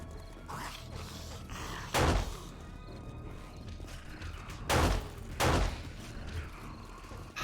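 Video game gunfire from a 7 Days to Die Alpha 19 session: several loud, sharp broadband bursts over steady game ambience, one near the two-second mark and a close pair later on.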